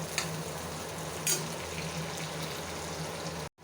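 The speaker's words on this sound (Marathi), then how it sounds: "तर मस्त असा लालसर कांदा भाजून घ्यायचा आपल्याला पहिल्यांदा" Chopped onion frying in oil in a pan for a mushroom curry, a steady close sizzle with faint crackles that cuts off abruptly near the end.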